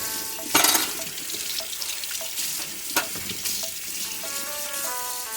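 Running tap water pours over an old egg pan as it is washed in a sink, a steady close hiss with splashes, clinks and scraping rising above it, and no talk.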